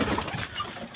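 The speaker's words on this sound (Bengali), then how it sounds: "এই দেখেন এই কবুতর জোড়া" Pigeons in a small backyard coop shared with chickens, a soft, low continuous cooing close by with no talk over it.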